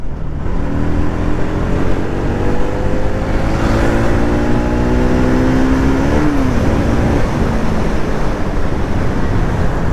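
A petrol vehicle engine, freshly carburettor-tuned, revs high and climbs smoothly in pitch for several seconds before dropping back, loud and steady with a constant engine drone underneath.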